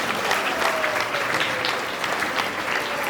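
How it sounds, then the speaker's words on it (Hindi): Steady applause fills a church hall during a Thanksgiving Mass at Divine Saviour Church, a dense, continuous wash of clapping from a crowd lasting throughout without pause. "तालियों की गूंज हवा में खुल चुकी है और कानों में बस चुकी है।"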